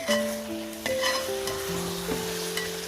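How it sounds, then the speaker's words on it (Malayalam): Tomato masala for chicken biryani sizzles steadily in a pan as it is stirred, with soft scraping under a held, tonal musical background. "ഇനി വീണ്ടും ഇളക്കി യോജിപ്പിക്കാം"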